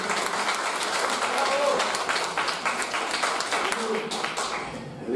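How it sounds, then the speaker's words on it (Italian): Audience applause at an Italian conference on tarantism and religious veneration, offered for a newly married colleague; a steady, dense wash of clapping holds throughout, with faint voices mixed in. "quindi faccio un applauso"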